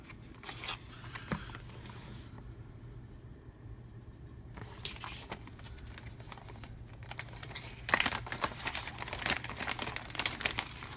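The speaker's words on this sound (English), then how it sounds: "Comes in a clear plastic bag." Soft, close crinkling of a clear plastic bag holding a 6-inch Livingston Lures B Viper fishing lure, irregular and faint with brief pauses, growing a little louder near the end.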